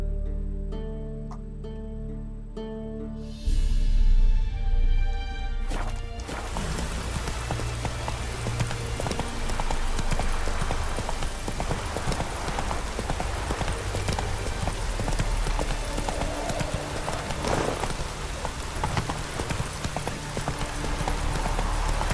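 Roach, a horse in The Witcher 3: Wild Hunt, gallops with steady rapid hoofbeats under a constant rain-like wash, after a short quieter stretch at the start.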